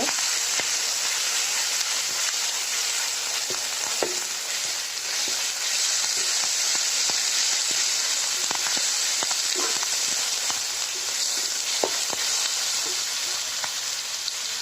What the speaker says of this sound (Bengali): দিয়ে দিচ্ছি আদা রসুন পেস্ট দিয়ে ভালো করে আমরা ভেজে নেব